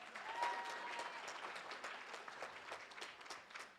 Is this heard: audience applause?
yes